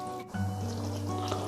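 Half a glass of water poured into chicken korma in a cooking pot, a short liquid splash and steady fill with gentle squishy trickling, close and moderately loud.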